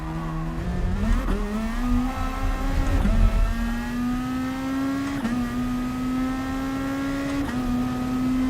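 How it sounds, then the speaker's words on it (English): A race car's engine in GT Sport at the Red Bull Ring drones steadily, its pitch stepping up and dropping with several abrupt gear changes while engine braking, loud and continuous without talk. "Bit of engine braking, I guess."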